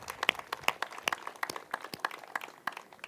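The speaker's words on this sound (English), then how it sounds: "I think we need a huge round of applause for the most famous vegetable gardener in the world, our First Lady," Scattered audience clapping for First Lady Michelle Obama at a spring garden planting event, light, irregular claps from a modest outdoor crowd.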